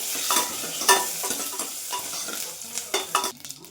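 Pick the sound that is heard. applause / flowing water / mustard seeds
mustard seeds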